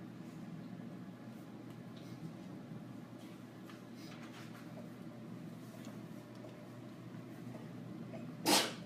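A single sharp sneeze bursts out near the end after several seconds of quiet room hum.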